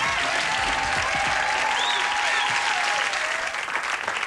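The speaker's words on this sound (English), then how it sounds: "Let's hear it for Cornelious C. Flowers." Applause from the gathered mourners at a eulogy, a warm sustained clapping from a crowd filling the room, steady throughout and fading slightly at the end.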